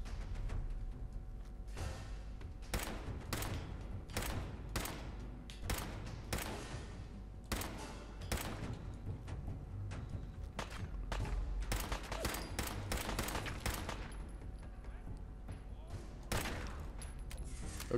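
Rapid gunfire from a video game, Fallout 4, with bursts of shots and heavy thuds repeating densely throughout, some machine-gun volleys, loud and close; a voice talks over parts of the fighting.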